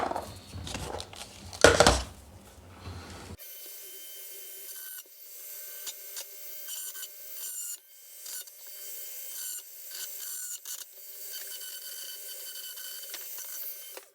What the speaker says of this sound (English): Make it nice and smooth using the craft knife.